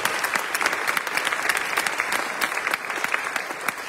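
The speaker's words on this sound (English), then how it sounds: "Come on, let's give a round of applause for that." Lecture audience applauding steadily at the fifth annual Hill-Robinson McNair Lecture, a dense, continuous clapping that fills the whole room without a break.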